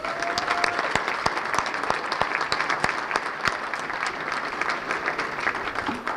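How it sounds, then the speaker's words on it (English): Applause from a banquet audience at a sports hall of fame enshrinement: steady, dense clapping from a large crowd indoors, with individual sharp claps standing out, continuing evenly throughout. "So can we give a round of applause again to everyone?"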